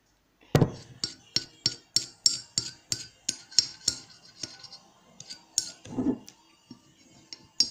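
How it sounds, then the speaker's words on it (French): Scissors snipping small marks into drying craft material for a bedroom decoration, a rapid series of sharp, close clicks in an irregular rhythm with a short pause before a few final snips. "Faire des petites marques au ciseau."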